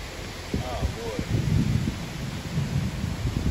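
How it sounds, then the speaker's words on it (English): Rumbling thunder rolls beneath steady rain and wind during a hike in Black River State Forest, Wisconsin, with brief voices speaking near the start. "here comes the storm"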